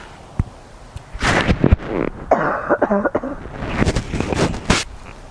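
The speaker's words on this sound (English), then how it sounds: "This cold weather's got me coughing." Several harsh coughs burst out close up, one after another in uneven clusters, with brief pauses and muffled breathing between them.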